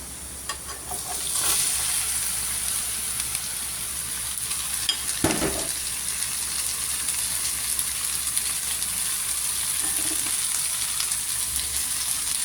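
Sliced bottle gourd and onion fry in a pan, a steady close sizzle with a brief stirring scrape partway through and no voices.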